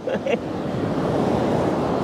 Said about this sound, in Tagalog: Lumalakas yung alon eh.